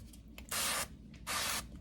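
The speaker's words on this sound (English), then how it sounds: "Non-stick spray." Two short hissing bursts of non-stick cooking spray onto a heated waffle iron, close by, each lasting about a third of a second with a brief pause between.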